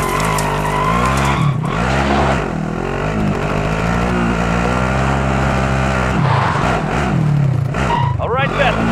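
A car in Call of Duty Modern Warfare Warzone battle royale drives with a loud, continuous engine drone that rises and falls as it revs and shifts, with tire skids and brief dips along the way.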